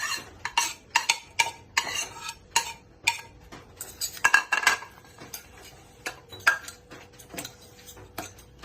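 Papaya salad noodles and shrimp tossed together in a bowl, with repeated clinking and scraping of a utensil against dish in an irregular rhythm, close and moderately loud with no talking.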